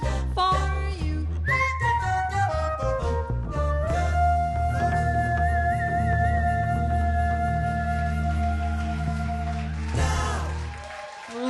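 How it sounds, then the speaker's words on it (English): A person whistles a tune with a live jazz quintet, clear sustained notes with slides and held pitches, over a low steady backing sound. "I'd whistle a little tune for you."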